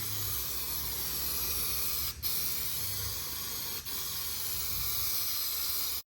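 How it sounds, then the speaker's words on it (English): An aerosol can of trim black paint sprays Power Wheels ride-on toy seats in a steady, close hiss, broken by two brief pauses before the spray cuts off at the end. "So I'm gonna spray these seats real quick"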